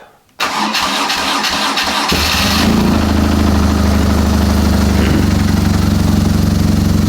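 A BMW R1200GS motorcycle engine cranks briefly, catches and settles into a loud, steady idle close by.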